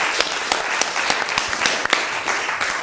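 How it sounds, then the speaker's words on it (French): Audience applause in a theatre during a staging of Oedipus, a dense steady wash of many hands clapping throughout, moderately loud with no talk over it. "On applaudit très fort la royale Jocaste."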